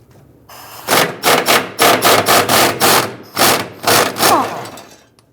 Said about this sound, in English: we're going to loosen and remove this 13mm bolt